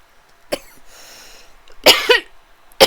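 Isolated close coughs from one person: a lone sharp cough, a pause, then a harsher double cough with a throaty tail, and another abrupt cough at the end.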